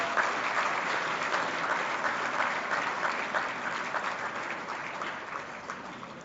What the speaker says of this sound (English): may I request you all to give a rousing applause to all the achievers